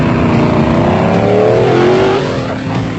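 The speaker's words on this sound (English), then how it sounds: "Rob Walk in a Super Pave race car was taking it very easy through the mud" A Super Pave race car creeping slowly through mud in the 1997 Trans-Tongoland off-road race in South Africa, its engine droning loud and steady with a gentle rise in revs, no voices over it.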